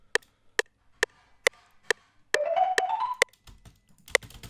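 A dry, unprocessed beat loop: evenly spaced sharp percussive hits repeat steadily, joined midway by a rising tonal synth line and a burst of low, dense noise before the hits resume, all loud and close with no reverb.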